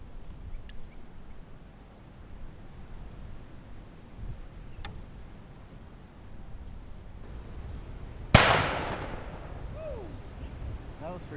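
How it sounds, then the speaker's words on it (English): A single distant gunshot or cannon shot cracks out once on a quiet Texas paddling trail, a sharp report with a long echoing decay over soft outdoor ambience. "was for sure a gun"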